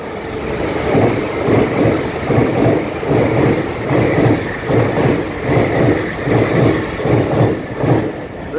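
A Class 180 diesel train passes through Doncaster station, its engine roaring close and loud with a steady rhythmic clatter of wheels over rail joints throughout.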